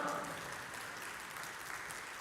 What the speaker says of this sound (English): If you're clapping, clap well.